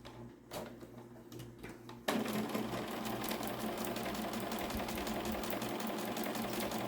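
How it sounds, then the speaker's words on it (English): A sewing machine runs steadily while stitching quilt strips with a quarter-inch seam, starting abruptly after a quiet moment with hand handling and continuing as a loud, even mechanical whir with no talking. "we're just going to take that over the machine and sew it"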